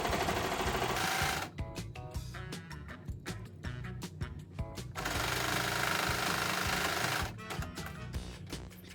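A Baby Lock Accolade serger sews a hem, running in loud rapid mechanical bursts broken by short pauses, close up and with no talk.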